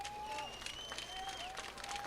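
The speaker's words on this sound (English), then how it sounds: "he gets a good round of applause by the sellout crowd here at Purple Stadium" Sellout stadium crowd at Purple Stadium applauding a tired soccer player being substituted off: dense, distant clapping and crowd roar spread across the whole moment, with a commentator's voice running over it.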